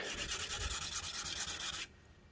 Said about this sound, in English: so we're going to sand it flat